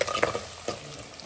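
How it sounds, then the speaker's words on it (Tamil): Onion and garlic fry in oil with a steady sizzle, broken by the brief clatter of stirring. "வெங்காயமும் பூண்டும் நல்லா வதங்கிடணும்."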